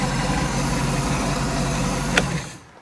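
A Tohatsu 5hp four-stroke outboard engine idles steadily with a close, continuous low hum and rattle, then cuts off abruptly near the end of the short stretch, with no voices.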